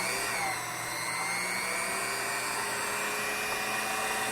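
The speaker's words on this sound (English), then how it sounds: "We're going to put a key on the end so we can rotate our shaft. Turn our machine on." A locksmith's key cutting machine cuts a key, a steady close mechanical whine with a constant high-pitched tone that holds evenly throughout.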